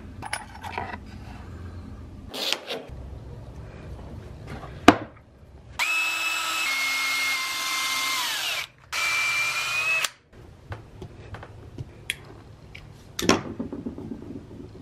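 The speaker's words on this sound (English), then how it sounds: "So I'm just gonna custom make mine by just drilling a hole and then making my own slit." A power drill whirs loudly in two bursts of a few seconds each, drilling a hole in cork, close by, with small clicks and handling noises around them.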